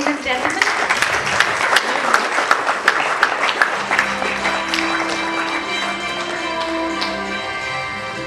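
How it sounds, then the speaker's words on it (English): Applause at an award ceremony as honorees come on stage, a dense crowd of clapping that stays strong for several seconds, then thins out as a sustained tone and faint voices come in underneath. "Another round of applause, ladies and gentlemen."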